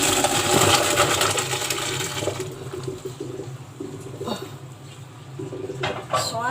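Boiled macaroni is poured into a strainer, and a loud rush of draining water fades gradually over several seconds, with a few clinks of metal cookware. Soft bird cooing sounds in the background.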